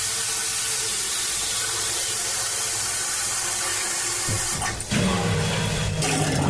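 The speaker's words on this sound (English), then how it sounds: "this button on the right, I think, will flush the toilet" A toilet aboard a yacht flushes with a continuous rushing, hissing wash of water, then surges with a louder gurgle near the end; no one speaks over it.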